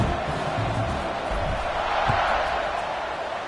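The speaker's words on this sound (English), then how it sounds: "They're set to kick it off, and this crowd now ready to get behind them." A football stadium crowd at a Virginia versus Duke game gives off a loud, sustained roar as the teams line up for the kickoff, a steady wall of noise with no clear individual voices.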